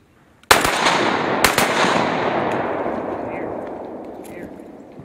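Gunfire erupts suddenly after a short silence: a loud burst of shots, then a second sharp report, trailing into a long, fading rumble and echo.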